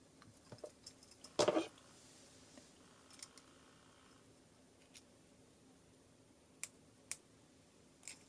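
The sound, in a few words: clicking while attaching a charm with jump rings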